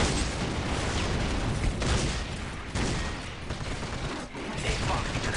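Missile volleys firing in the video game Warhammer Dawn of War, a dense, loud barrage of overlapping blasts and rumbling explosions with no break.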